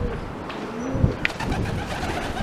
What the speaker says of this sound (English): so pigeons are going to be nesting in the roof